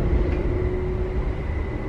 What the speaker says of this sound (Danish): Vi sitter på toget her i halvannen time cirka.